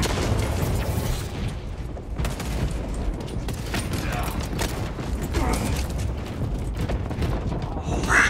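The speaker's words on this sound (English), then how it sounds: "Frag grenade deployed!" A frag grenade goes off amid heavy combat in Warhammer 40K Space Marine 2, booming blasts and mechanical clatter layered over continuous battle noise, with voices calling out throughout.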